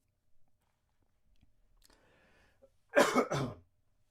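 A single close, muffled cough in two quick bursts after a few faint rustles, in an otherwise quiet room.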